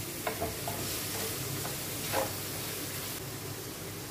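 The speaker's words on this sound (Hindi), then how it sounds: "जस्ट इसको 1 मिनट के लिए फ्राई करेंगे।" Chilli chicken macaroni fries in a pan with sauces and sugar, giving a steady soft sizzle with light scraping stir strokes, close and continuous, with no talking.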